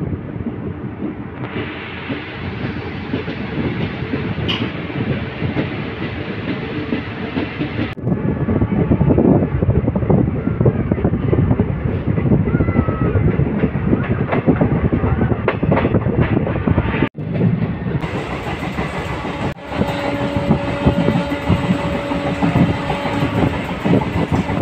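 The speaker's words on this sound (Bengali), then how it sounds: "আগমনী স্টেশন থেকে ট্রেন আমাদের ছেড়ে দিল" A DMU train runs on the New Coochbehar-Dhubri line in Assam, its steady rumble and rhythmic clickety-clack of wheels over rail joints loud and continuous from inside the carriage.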